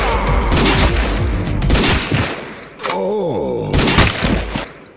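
A Magnum pistol in the PS2 shooter BLACK (2006) fires heavy, booming shots amid other in-game gunfire and explosive thuds, loud and close over a few seconds.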